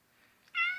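A pet cat lets out a single short, close meow after a soft quiet lead-in, fairly faint overall.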